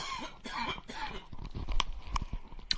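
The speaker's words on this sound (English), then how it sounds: "Pardon, had to cough." A single nearby cough with some throat noise, followed by a few soft clicks and shuffles in an otherwise quiet room.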